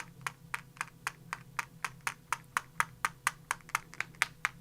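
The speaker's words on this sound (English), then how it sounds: "I'm going to take my scissors and I'm just going to smack on the scissors to create some white droplets" A paintbrush smacks against scissors over and over to splatter white acrylic paint, making about twenty sharp, evenly spaced clicks. The taps are faint and close, over a quiet room hum.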